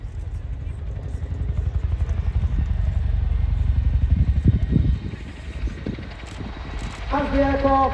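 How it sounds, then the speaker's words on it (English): An RAF Chinook CH-47 twin-rotor helicopter flies overhead with a loud, pulsing rotor thump and engine roar that swells and then eases. A brief higher tone sounds near the end. "As the aircraft transitions away into forward flight, the Chinook will now reposition to provide overwatch to the troops on the ground."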